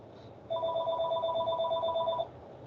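Close electronic ringing from a laboratory telephone, one sustained burst lasting nearly two seconds over quiet background noise, then stopping abruptly.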